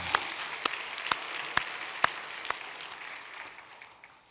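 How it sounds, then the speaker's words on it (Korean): A church congregation breaks into applause during a Sunday service, a soft, steady patter of many hands with a few sharper claps standing out at first, then thinning and fading away over a few seconds. "다시 한번 박수"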